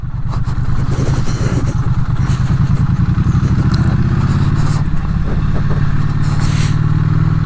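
A Triumph Street Twin motorcycle is ridden on a long highway run in India, its engine droning loud and close with a steady throb, wind roar and occasional clatter, and no talk.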